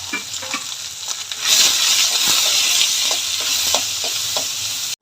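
Garlic and other food sautéing in a pan with a little salt, a close, bright sizzle that swells after the first moment, broken by scraping stirs and light clinks, with no talking.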